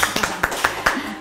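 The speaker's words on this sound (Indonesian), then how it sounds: "Tepuk tangan dong semuanya ya." Hands clapping in a home cooking setting, a handful of separate, fairly sharp claps in loose rhythm, moderately quiet, from only a few people rather than a full crowd.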